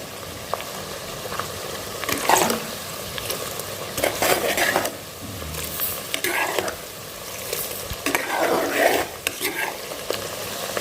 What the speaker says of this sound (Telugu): ఇదిగోండి ఉల్లిపాయలు వేపేస్తున్నాను అనమాట.